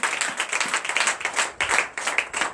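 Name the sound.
congregation applauding in church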